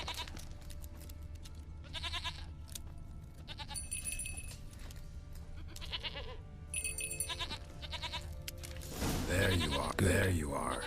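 Goat bleats in The Witcher 3 come in several short separate calls at moderate distance, mixed with game ambience and the sound of someone talking.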